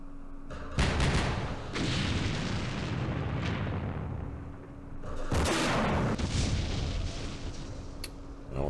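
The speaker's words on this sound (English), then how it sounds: "Oh, that's a recoilless rifle Jeep firing." Recoilless rifle mounted on a Jeep firing in the war game Campaign Series Middle East, heavy booming blasts with long rumbling decays, two main shots several seconds apart over a low hum.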